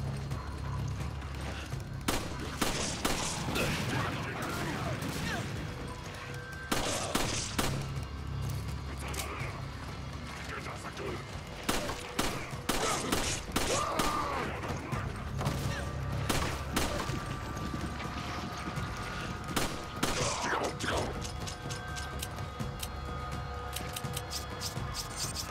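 Gunfire in Resident Evil 5, with scattered sharp shots and impacts repeating irregularly across a long stretch of game action, moderately loud over a steady low background.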